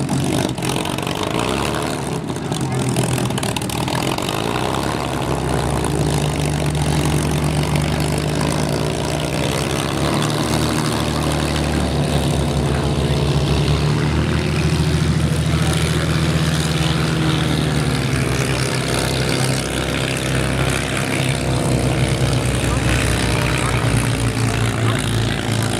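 Engines and propellers of a wood-laminated warbird aircraft at a beach air show; a loud, continuous low droning roar that holds steady throughout, with a voice talking over it.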